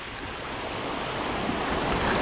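River water rushing steadily past while gravel is sluiced for gold at a UK river, a broad, even wash of flowing noise that swells slightly toward the end.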